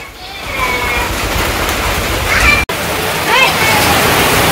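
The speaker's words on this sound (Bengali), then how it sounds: "এই যে বৃষ্টি নেমে গেছে মোটামুটি অনেক বৃষ্টি" Heavy rain pouring down in a village, a loud continuous wash of water with splashing, heard alone without talk, broken only by a brief dropout midway.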